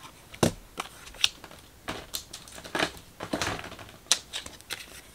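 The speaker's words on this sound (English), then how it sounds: "I might have cut these a little too big, so I'm just going to trim them down." Scissors trimming paper layering pieces for a craft, faint irregular snips and crisp rustles spaced unevenly, close up and quiet with no talking.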